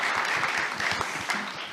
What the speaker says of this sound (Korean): 그래도 뜨거운 박수를 보내주시기 바랍니다.